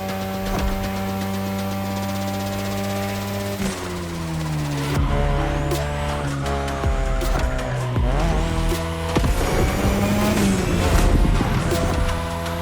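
A 2002 third-generation Mazda RX-7 with a rotary engine races in The Crew Motorfest video game, its engine rising and falling through gear changes, with tire squeals and scrapes layered over the steady, loud drone.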